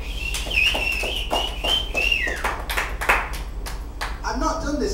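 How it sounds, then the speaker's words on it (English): An audience on Sunset Boulevard in Hollywood claps for a comedy act in scattered, uneven rounds of moderately loud hand claps, mixed with whistles and crowd voices and steady background hum. "let's give him a round of applause"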